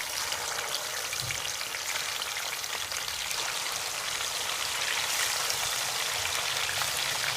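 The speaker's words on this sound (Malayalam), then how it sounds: "ബാക്കിയുള്ള എണ്ണയിലോട്ട് നമുക്ക് ചിക്കൻ പീസസ് ചേർത്ത് ഫ്രൈ ചെയ്തെടുക്കാം" Chicken pieces fry in hot oil for Malabar chicken biryani, a steady, close, bright sizzle with a dense crackling hiss that holds evenly throughout without talking.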